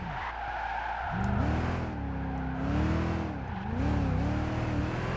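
Engine of a 1996 Mazda RX-7 in the video game Gran Turismo 5, revving and changing pitch through corners alongside loud tire squeal and skidding, steady and close throughout.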